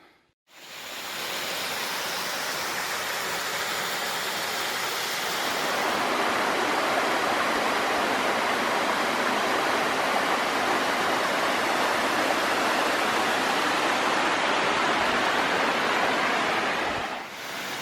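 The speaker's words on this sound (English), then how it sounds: "So I'm crossing a bridge above that waterfall I just showing you last, and this is obviously where it comes from." A waterfall on the Great Glen Way roars in a dense, continuous rush of falling water, loud and close, swelling slightly partway through and holding steady with no voices.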